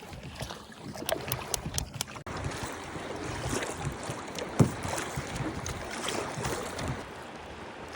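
Inflatable dinghy out on the sea near the English Channel coast, with water slapping and sloshing against the hull amid wind and engine-like rumble, one sharp knock midway, heard close and fairly steady without talk.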